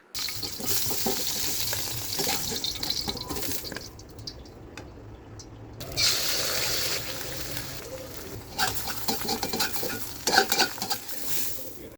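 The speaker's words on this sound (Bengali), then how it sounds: "এখন আমি ডিম পোচ করে নিব, 4 জনের জন্য 4টা" Eggs fry in a pan with a crackling sizzle that cuts out briefly midway and returns, joined by scraping and stirring noises up close.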